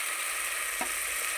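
Ginger garlic paste frying in a pan, a steady bright sizzle throughout with a couple of faint stirring taps, close and alone without talk.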